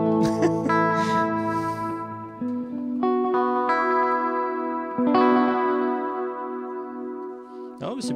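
An electric guitar runs through an Empress Echosystem or Source Audio delay pedal, sustained chords and single notes blooming with repeating echoes and a reverb-like wash, played alone without talk.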